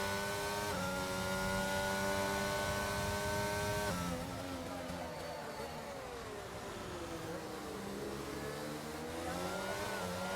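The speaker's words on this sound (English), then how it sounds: "And we got cars releasing into each other in the pit lane." Formula 1 cars in the pit lane at the Canada circuit in the F1 22 video game, a sustained engine drone with a steady pitch that drops away and then sweeps up again as cars pass, alone and continuous.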